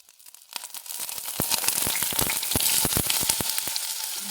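Slices of ripe nendran banana sizzle as they hit hot ghee in a pan, a dense frying hiss that builds quickly and stays close and steady, speckled with sharp crackles and pops.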